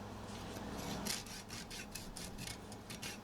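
A Japanese saw cuts wood at a guitar neck joint on a Gretsch Country Gentleman, making a quiet, rhythmic rasping with about a dozen short, fine strokes.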